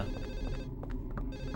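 A telephone rings in the video game Silent Hill 4: The Room, a close, steady electronic bell ring with a rapid trilling pulse and a low ambient hum underneath.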